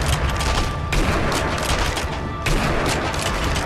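Dense, continuous gunfire from blind-fire shooting in the video game Sniper Elite V2, loud and sustained with brief dips near one and two and a half seconds before the bursts resume.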